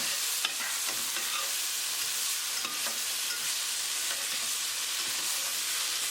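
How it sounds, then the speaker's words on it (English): Tomatoes stirred into a hot pan with oil and green chili tadka for a salmon curry, giving a loud, continuous close sizzle with a few scraping stir sounds and no speech. "Now we're going to add tomatoes. Mix it well."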